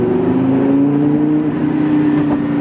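Audi RS6 engine with a race-car character, a loud steady low drone with slight pitch rise, held close and continuous with no talk over it.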